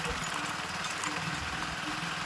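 A new Honda motorcycle engine running while riding, a steady close mechanical drone with rough throbbing low end and broad wind-like noise, no talking.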